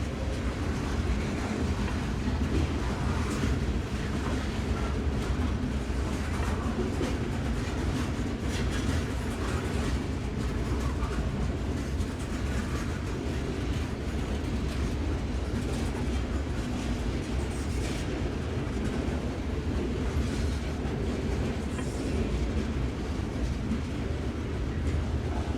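CSX freight train L765 rolls toward a grade crossing at night, a steady low rumble of rail cars with faint clickety-clack that holds evenly throughout, moderately distant, with no voices.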